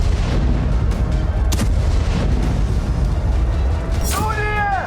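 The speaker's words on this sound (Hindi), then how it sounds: "अवदीवका में भी रूसी सेना की तोपों ने यूक्रेन की चौकियों पर बारूद बरसाए।" Russian artillery shelling Ukrainian posts at Avdiivka, heard as dense rumbling booms and blasts layered over each other, with sharp reports and a rising whistling tone near the end.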